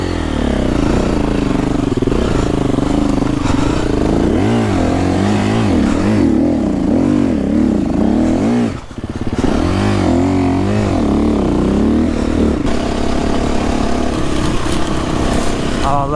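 A KTM 350 enduro motorcycle revs hard on a rough trail, its engine note rising and falling in steady surges across the whole stretch, loud and close, with a brief drop near the middle and a voice talking faintly underneath.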